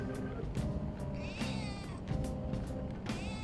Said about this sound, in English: if you actually press the touchpad, Morgana meows